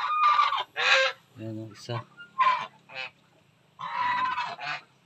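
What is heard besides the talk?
chickens on a farm near their laying nest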